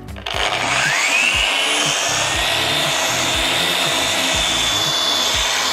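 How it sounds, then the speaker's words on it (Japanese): A Rupes double-action polisher with a strong-cutting sander head, buff and compound works car paint at speed setting 4, giving a loud, continuous whirring grind with a rising pitch at start-up and rhythmic low thumps as the pad moves. "続いてはダブルアクションのルペスを使って磨いていきます。"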